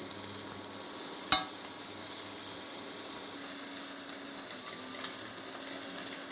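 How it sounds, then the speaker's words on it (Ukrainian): Steady sizzle of pork fat (salo) rendering in a frying pan, with a faint hiss throughout, one sharp clink near the start, then the crackle softens slightly partway through. "На сковорідку викладаю сало і витоплюю жир."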